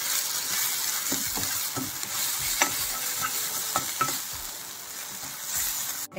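Garam masala and ginger garlic paste fry in a pan for a dhaba-style baby potato curry, giving a steady hiss with occasional soft scrapes and clinks of a stirring spoon.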